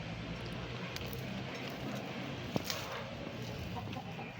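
Backyard chickens cluck faintly and sporadically at a distance, soft scattered calls buried in steady outdoor background noise.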